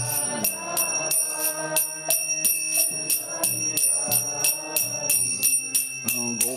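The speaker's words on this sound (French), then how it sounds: "Le gong aussi" A gong rings out during a Hare Krishna devotional chant, struck in a steady rapid rhythm with bright metallic ringing that overlaps each stroke, loud and close, with the chanting faintly beneath.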